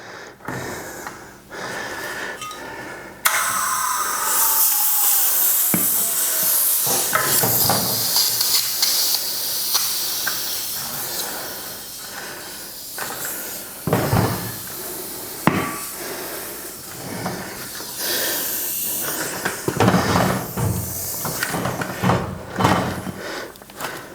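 Air is forced into a tubeless bicycle tyre on a new rim. A loud, close hiss runs most of the way through, broken by sharp bangs and pops and uneven bursts of rushing air as the pressure builds.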